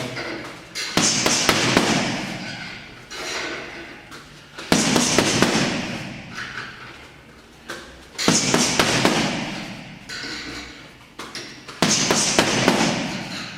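Punches landing on a heavy boxing punching bag in combinations, sharp loud thuds arriving in four clusters with short gaps between them, close and unaccompanied by talk.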